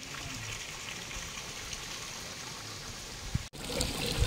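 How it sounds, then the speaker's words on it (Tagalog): Water trickling steadily into a fairly large pool as it fills, a constant soft splashing wash with a brief dropout and a few light knocks near the end. "ito yung isang pool na malaki-laki, kaya lang nag-iipon pala ng tubig"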